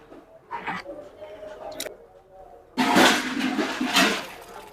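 Water pours and drains noisily from soaked sago through a strainer, a loud rushing splash in the second half after quieter handling sounds and faint voices.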